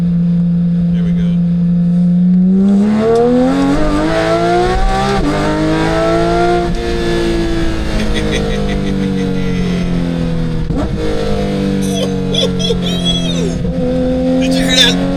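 A 2022 Porsche 911 GT3 with exhaust valves open and manual shifting, its engine revving hard and loud close up, pitch climbing through several rising pulls with crackling shifts between them, while people talk excitedly over the roar.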